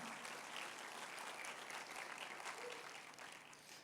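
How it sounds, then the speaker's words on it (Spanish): A church congregation applauds at a Tuesday sermon, a steady dense wash of clapping from many hands that holds for a few seconds before easing slightly. "Dele un aplauso al Señor por eso,"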